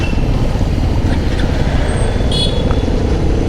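Morning road traffic on a monsoon bike ride from Mumbai toward Mahad and Pali, heard as a constant loud rumble of engines and tyres with a brief brake squeal partway through.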